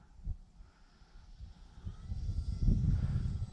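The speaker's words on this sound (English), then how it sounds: "Such a fun little plane though." An E-flite T-28 radio-controlled model airplane on 3-cell battery power flies over grass, its electric motor a low, rising whir that grows louder toward the end, with wind rumble.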